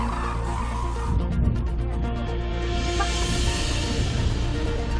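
A dense flock of wintering hooded cranes calls continuously in cold weather, a loud, steady chorus of overlapping bird cries with no talk.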